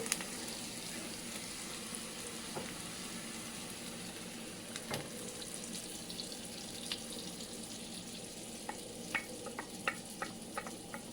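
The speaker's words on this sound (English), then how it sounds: "now the onion is ready, and it's time for me to add eggs" Eggs frying with onion in a pan for crispy scrambled eggs, a steady near sizzle running throughout with a few sharp crackles and small clinks toward the end.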